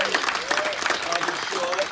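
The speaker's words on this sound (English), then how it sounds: "Let's give them a round of applause." Audience at a United Nations side event applauding honorees and panelists, a dense, brief burst of clapping from a crowd in a hall.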